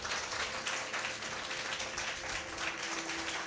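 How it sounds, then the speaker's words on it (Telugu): A church congregation claps loudly and continuously, a dense wash of many hands filling the hall, with no voices rising above it. "గట్టిగా చప్పట్లు కొడదామా?"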